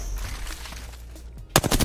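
Automatic rifle fire in the Apex Legends battle royale game: a sharp, loud burst of rapid shots near the end, after a stretch of busy, muffled game ambience.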